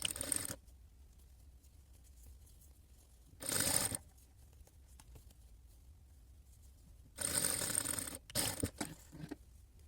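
Sewing machine stitching a welt pocket seam on a jacket, a 1 cm line, heard in three loud bursts of fast running stitches, one short and two longer near the end, separated by quiet pauses.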